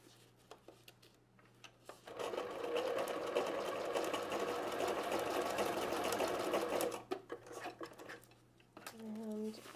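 A sewing machine stitches a cloth diaper tab, running in one steady, loud burst for several seconds, with light handling clicks and rustling of fabric before and after.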